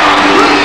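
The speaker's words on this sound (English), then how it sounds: "The crowd like that." Loud arena crowd at a 1988 Perth Wildcats NBL basketball game roaring and cheering in a dense, sustained swell, with a commentator's voice faintly under the noise.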